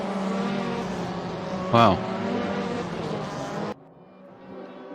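A Lada touring car racing in a video game, engine droning steadily with a brief sharp tire squeal midway, then the sound drops abruptly to a quieter hum; a voice exclaims briefly.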